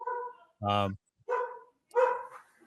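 Dog barking in a living room: one loud bark stands out between stretches of nearby talking.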